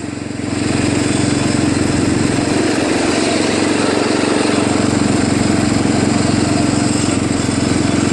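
A Craftsman LTV 10 Varidrive lawn tractor engine runs steadily and close by, a loud continuous buzzing drone that holds an even pitch throughout.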